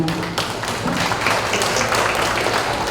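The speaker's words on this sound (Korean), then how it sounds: "우리 강수 총재님께 다시 한번 큰 박수 부탁드리겠습니다." Applause breaks out for the federation president at the opening ceremony of the 2024 World Grand Prix Model Competition Korea final, a dense, steady wash of many hands clapping at full, close volume throughout.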